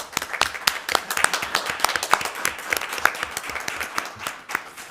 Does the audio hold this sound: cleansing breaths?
no